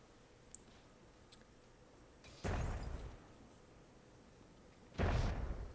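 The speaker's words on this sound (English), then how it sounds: "Some nice explosions there from Chaotic Animal and Scratch" Two deep, booming explosions in the game Myth II: Soulblighter a few seconds apart, each with a rumbling tail, over a faint background hum and a couple of small clicks.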